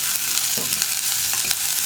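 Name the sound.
onions and green chilies sautéing in a pan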